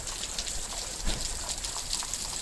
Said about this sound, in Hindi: बाहर माशाल्लाह बहुत तेज़ बारिश हो रही है